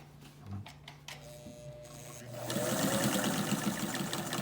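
A Singer 99K sewing machine set in a walnut table, stitching at its longest stitch length: a steady, close mechanical whirring that starts after some quiet handling clicks and a brief voice, then runs continuously and loudly.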